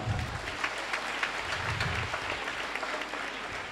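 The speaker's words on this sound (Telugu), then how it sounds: "ఒకసారి గట్టిగా చప్పట్లు కొడదాం" A church congregation at a Maundy Thursday Eucharist claps together, a dense, even wash of applause from many hands filling the room throughout, moderately distant and without talk.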